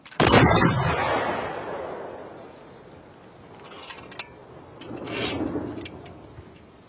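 A volley of rifles fired on command in a Napoleonic-era battlefield scene, a single loud crack rolling into a long fading echo, with scattered distant reports and rumble afterward.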